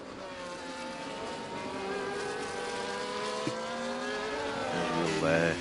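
Racing cars in a sim-racing video game on the Hungary circuit drone with a high, steady engine whine that rises through the gears, several machines overlapping and swelling louder toward the end.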